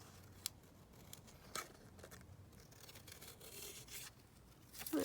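Scissors cut out a piece of purple paper ephemera, giving a few quiet, close snips and soft paper rustles spread across a hushed tabletop setting.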